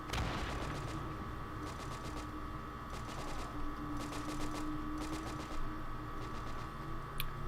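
Rapid bursts of 2-centimeter flak gunfire in a World War II strategy game, rattling in repeated short volleys over a dense battle din with distant explosions.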